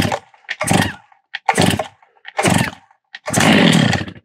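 A Stihl MS660 chainsaw being pull-started: four or five separate rasping bursts of the recoil cord close by, the last longer and fuller, with brief quiet gaps between pulls.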